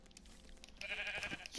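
Sheep in the Minecraft video game bleat in a short wavering burst that follows quieter in-game sounds, fairly close and clear with no talk over it.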